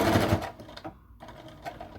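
A sewing machine makes a few quick back stitches through fabric for a book sleeve, a short, rapid mechanical burst followed by softer clicks and a brief pause.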